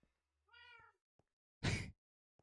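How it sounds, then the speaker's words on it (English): A cat meows once, a clear harmonic cry with a falling pitch, heard alone near the mic amid faint clicks and a louder broadband burst of noise, during a Minecraft Hardcore game session. "cat's making all this noise"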